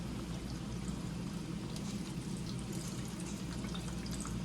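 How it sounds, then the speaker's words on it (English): Breaded chicken sizzles steadily in a hot pan, a close, continuous crackling hiss with no voices. "Hear that sizzle so beautiful."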